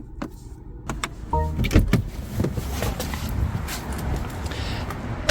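Power windows on a 2024 BMW 330 close with a steady motor whir after a few clicks of the lock button, heard close up, with a person speaking briefly.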